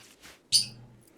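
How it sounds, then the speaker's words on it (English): Birds in the Rimworld video game let out a single short chirp, sharp and fairly close, over a quiet background. "Let me know if the bird noises are too much, and I'll have the birds moved somewhere else."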